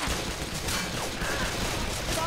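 Rapid gunfire in the video game Left 4 Dead, an Xbox One versus match, crackling as steady bursts under a wash of game noise with brief voices mixed in.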